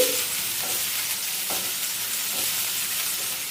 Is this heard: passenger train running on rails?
no